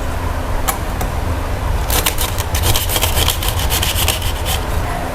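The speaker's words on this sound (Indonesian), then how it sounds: "Apabila dirasa elektroda belum bersih, maka kita perlu mengamplasnya terlebih dahulu." Metal copper and zinc electrodes are rubbed with sandpaper in a chemistry lab in quick, rhythmic scratchy strokes. The strokes start sparse, then become a dense run of rasping passes.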